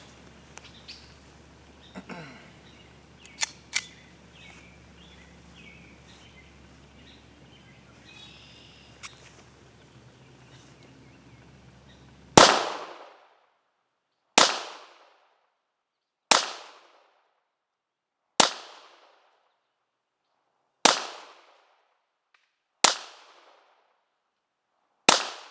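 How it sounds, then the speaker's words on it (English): Seven Walther PPK pistol shots fired at about 10 yards, evenly spaced roughly two seconds apart, each a loud sharp crack with a short decay, following a quieter stretch of faint handling noises and distant birds. "We're going to shoot at a distance of about 10 yards here"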